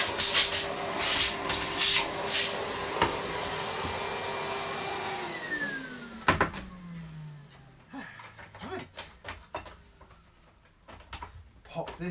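An Electrolux vacuum cleaner motor hums at a steady pitch, then winds down with a falling whine, followed by scattered clicks and handling knocks close by.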